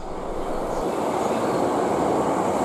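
A Hankyu Kobe Line train arrives at Kosoku Kobe station, heard as a loud, continuous rumbling roar of the moving train that stays steady throughout, with no speech.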